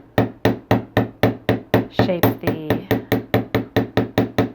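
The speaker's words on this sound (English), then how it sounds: "just hammer the curve here at the top, and that's just going to lock in that curve" A small hammer taps the curve at the top of a wire earring earwire in quick, even, ringing strikes, around three per second, close and loud, with a voice speaking briefly midway.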